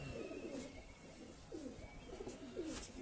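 Pigeons coo softly in a loft, repeated low rolling calls at a steady pace over faint background hiss, with no talk.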